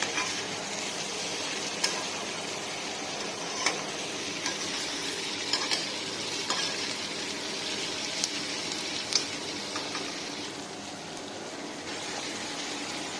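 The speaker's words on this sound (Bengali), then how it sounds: "দেখুন পেঁয়াজটা আস্তে আস্তে ট্রান্সপারেন্ট হতে শুরু করেছে, আরও কিছুক্ষণ এটা ভাজা হবে" Onions fry in a pan for yogurt chicken, giving a steady close sizzle while a spoon stirs them, with a sharp scrape or clink every second or two.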